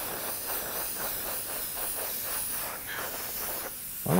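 A spray can hisses steadily while silver paint is misted onto a Bo-Katan helmet piece, one continuous close spray with a louder burst at the end.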